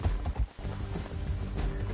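Horse hooves clip-clop in Red Dead Redemption 2, a quick, close run of thudding hoofbeats over about two seconds with a rumbling game soundscape beneath.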